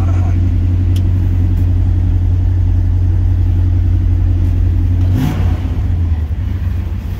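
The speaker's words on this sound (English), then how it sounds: "fast idle works." 1970 Dodge Dart Swinger with a 340 V8 holding a fast idle, a loud steady low rumble close by, its pitch dropping slightly near the end.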